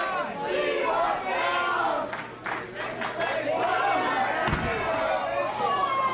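A crowd at a Vince Bono vs Mark Angel wrestling match shouts and chants for tables, loud and continuous, with a sharp slam near the middle. A commentator talks over the crowd.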